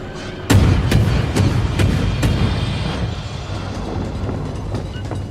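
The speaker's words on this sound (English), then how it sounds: "Now let's try these guns out, shall we?" Warship naval guns firing in the video game World of Warships: a series of about five heavy booming shots spaced roughly half a second apart, loud and rumbling over a steady low engine drone.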